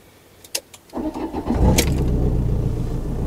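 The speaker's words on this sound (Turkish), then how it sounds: "Bakın, bir arabayı çalıştırayım, sesi duyun." A camper van engine with a leaking exhaust is started: a few clicks, a cranking whir, then it catches and settles into a loud, rough, rumbling idle, close and alone.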